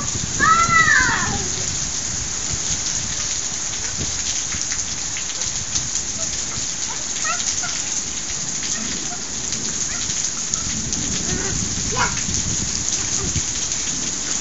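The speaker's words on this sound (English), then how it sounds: "It's raining so" Heavy rainstorm pouring down in a loud, steady wash, with rumbles of thunder and a person's brief exclamations near the start and around the middle.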